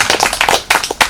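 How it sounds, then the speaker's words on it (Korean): A small group claps in loud, quick, uneven bursts for about a second, with the claps close and dry in an indoor room. "박수 한번 보여주시죠."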